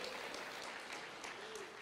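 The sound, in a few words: church congregation applauding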